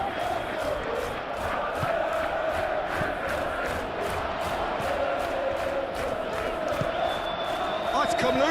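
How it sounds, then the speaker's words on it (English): A virtual stadium crowd in the PES 21 football game roars steadily through a simulated Benfica versus Real Madrid Champions League match, a continuous loud wash of chanting and cheering under a commentator's voice. "Now the crowd are demanding that they just finish this off."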